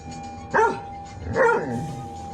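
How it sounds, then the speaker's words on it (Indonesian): A dog barks twice, close and clear, two separate barks about a second apart over a faint steady hum. "Anjing itu tampaknya merasakan sesuatu, dengan cepat berbalik dan menggonggong"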